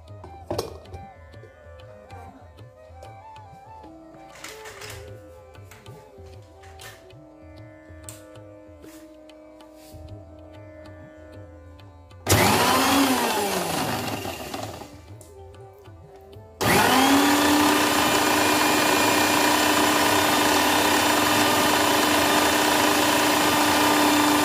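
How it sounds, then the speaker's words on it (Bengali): An electric blender whirs through an oil mixture in two loud bursts, a short run followed by a longer steady one, each starting abruptly after quieter kitchen sounds. "এরপরে ব্লেন্ড করে নিচ্ছি।"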